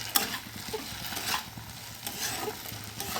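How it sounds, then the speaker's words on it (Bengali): Vegetable chow mein is stirred in a pan, giving a soft ongoing sizzle with scraping and stirring strokes that rise and fall in short bursts, fairly quiet and without talk. "এটাকে ভালো করে নেড়ে নিলাম"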